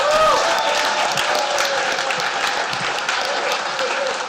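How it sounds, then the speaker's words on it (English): Audience at a WordCamp Orange County community event applauding, with steady, dense clapping from a sizeable crowd that holds for several seconds, with faint whoops and murmurs mixed in. "A big round of applause for Alex Vasquez."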